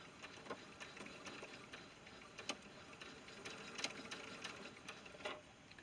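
A sewing machine stitches slowly through lace fabric, making a faint, even run of rapid ticking needle strokes with a few slightly louder clicks.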